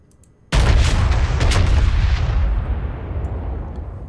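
A North Carolina BB-55 battleship fires a main-gun salvo in World of Warships, a single sudden loud boom after a quiet start that rolls out into a long, slowly fading rumble.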